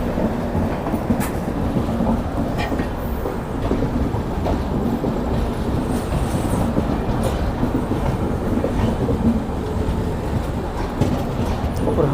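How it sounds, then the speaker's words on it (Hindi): Dehradun Tanakpur Express train rolling at very slow speed through a station platform, a continuous loud rumble with a steady rattle of wheels and carriages, no talk. "हमारी ट्रेन प्लेटफॉर्म पर बहुत ज़्यादा स्लो स्पीड जा रही है, अल्ट्रा स्लो स्पीड"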